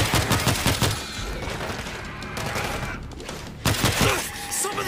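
Rapid gunfire in the zombie shooter World War Z aboard a cruise ship in Tokyo, bursts of shots crowding the opening second and returning near the end, loud and close, with voices and game sounds between.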